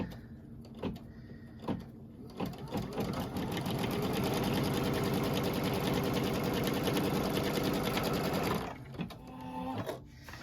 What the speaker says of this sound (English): going to stitch that in place